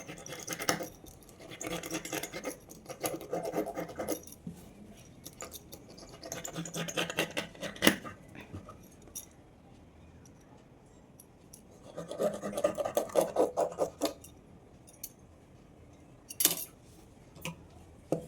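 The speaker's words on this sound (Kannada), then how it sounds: "ಒಂದು ಸಲ ಮಾರ್ಕ್ ವೀಲಿಂದ ಮಾರ್ಕ್ ಮಾಡ್ಕೊಳ್ತೀನಿ" Tracing wheel run over blouse fabric while marking the back piece, heard as two raspy bursts of rolling, scratchy ticking separated by quieter handling, close by with no talking.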